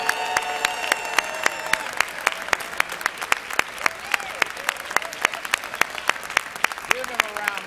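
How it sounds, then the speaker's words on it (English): Sustained applause from a convocation audience at a 2019 MLK event, many hands clapping steadily with sharp individual claps standing out, filling the hall throughout at moderate loudness. "join me with a thunderous round of applause as we congratulate President Robinson on his birthday today"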